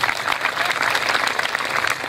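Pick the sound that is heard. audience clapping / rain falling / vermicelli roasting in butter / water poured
audience clapping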